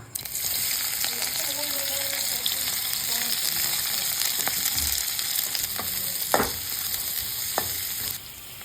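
Ingredients for paneer chilli fry in hot oil in a pan, giving a loud, steady, close sizzle. Occasional stirring clicks and taps cut through, and the sizzle drops away near the end.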